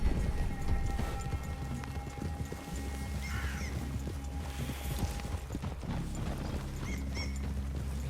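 Horse hooves clop steadily on a forest clearing in the video game Red Dead Redemption 2, a soft, continuous plodding under a low ambient rumble, with faint animal calls and no talk.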